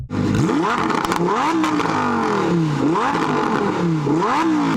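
A loud car engine revs repeatedly, pitch climbing and dropping in three or four surges, with steady mechanical roar throughout and no voices.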